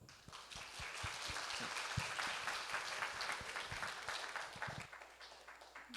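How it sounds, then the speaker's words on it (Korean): Audience applause fills a lecture hall at the close of a real estate tax seminar, a steady dense clapping that carries on for about five seconds before thinning out near the end. "다시 한번 큰 박수를 부탁드리겠습니다"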